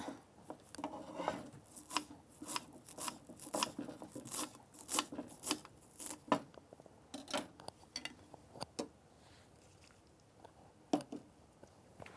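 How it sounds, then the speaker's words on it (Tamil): A knife chops coriander finely on a board, producing a quiet, irregular run of crisp taps and scraping cuts that thins out toward the end. "இந்த கொத்தமல்லியை மட்டும் கொஞ்சம் ஃபைனாக சாப் பண்ணி எடுத்துக்கலாம்."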